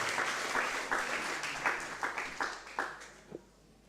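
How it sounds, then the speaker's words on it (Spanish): A church congregation claps together in a steady burst of applause, with a few louder claps standing out before it fades away near the end. "Démosle un fuerte aplauso a nuestro Dios."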